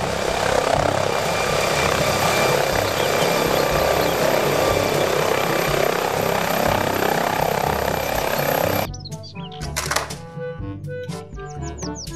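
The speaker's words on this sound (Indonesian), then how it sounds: "Helikopter." A helicopter drones loud and steady with a thick rotor and engine roar, then cuts off abruptly, leaving quieter knocks and tonal sounds.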